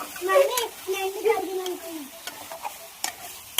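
Chicken being stirred and mixed in a hot pan, sizzling and frying, with soft scraping strokes in steady bursts and a voice talking over the first part.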